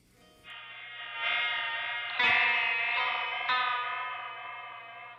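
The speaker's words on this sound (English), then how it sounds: "The vibrato setting, if you mess with the age, you're going to get like really old, worn out tones." Guitar notes run through a Walrus Audio Slotva pedal on its vibrato setting with the age control turned up, giving a wobbly, worn, murky tone; sustained chords swell in with fresh attacks, heard alone without talk.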